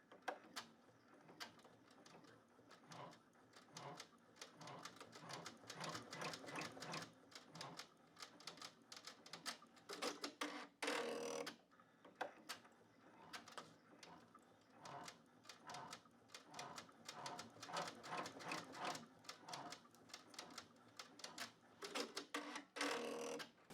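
An embroidery machine runs a tack-down stitch over a taped handle on the placement line of an in-the-hoop box bag, giving a steady, rapid mechanical clatter of needle strikes that continues for most of the clip with brief pauses.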